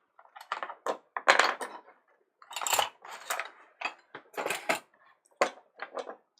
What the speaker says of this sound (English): use a series of small clearing chisels to smooth this off and get right up to the cut lines